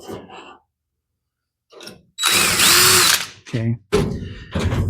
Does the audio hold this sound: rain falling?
no